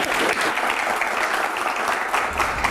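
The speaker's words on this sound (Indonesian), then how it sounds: "Tepuk tangan dulu." Sustained audience applause at a televised Q&A discussion, a dense, even roar of clapping hands from a large crowd that holds steady from start to finish.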